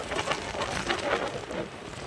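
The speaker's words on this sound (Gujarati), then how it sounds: "વરસાદ ચાલુ થઈ ગયો" Steady broadband hiss of heavy rain, continuous and fairly close, with no voices, pouring down during a stormy ride near Kheralu and Visnagar.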